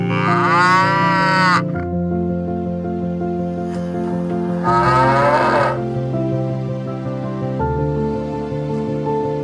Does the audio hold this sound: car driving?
no